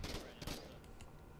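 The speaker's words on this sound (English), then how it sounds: "Just keep shooting." Gunfire in the Foxhole war video game, a short burst of rapid shots at moderate loudness that fades out within about a second.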